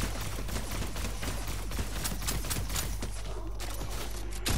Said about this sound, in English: Keep shooting it, keep shooting it. Shoot the llama, shoot the llama.